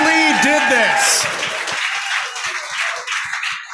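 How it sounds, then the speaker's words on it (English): Applause from an audience at a startup pitch night swells in after a brief stretch of voice, then carries on as a steady, dense patter of many hands to the end. "let's give one more round of applause"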